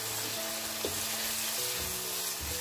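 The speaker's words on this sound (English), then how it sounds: "Just fry it 2 to 3 minutes until the raw smell goes off from the ingredients" Ginger garlic paste sizzles steadily in hot oil in a pan for mutton chops, a constant close frying hiss with faint stirring.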